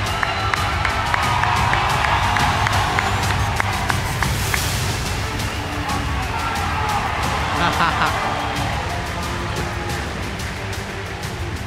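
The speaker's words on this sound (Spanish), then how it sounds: "Demos un fuerte aplauso, por favor, para Wanyar y la Cobra" A large theatre crowd at a live fight-event presentation applauds and cheers steadily for the fighters, a dense roar of clapping and shouting that fills the hall, with a voice also talking amid the noise.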